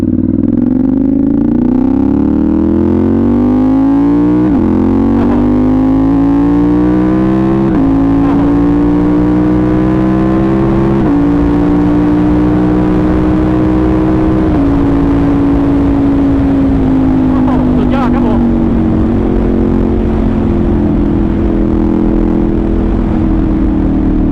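A Ducati Monster 796 with an END SER quick shifter revs up through successive gears: loud, close engine drone that climbs in pitch and drops sharply with each quick shift, about five clean upshifts in steady rhythm, no voices.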